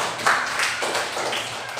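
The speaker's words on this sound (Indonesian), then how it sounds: "Ya, kita beri tepuk tangan" Applause in a classroom, a short burst of hand clapping from a small group, fairly close and lively, fading slightly toward the end.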